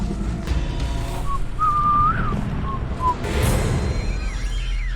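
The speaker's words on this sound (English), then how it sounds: "this weird whistle edit the Bachelor people threw on top of it" A sound-effect whistle is laid over a reality TV dating show scene: a thin, clear melodic whistle with short notes and a longer rising tone, over steady background noise.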